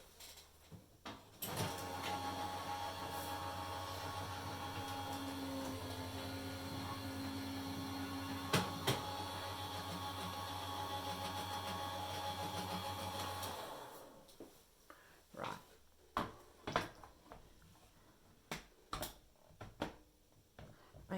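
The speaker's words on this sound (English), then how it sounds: "I'm just going to run this through my machine." A hot foil machine hums steadily as a card feeds through, with a low motor drone and occasional clicks, then stops and gives way to a series of sharp handling taps and knocks nearby.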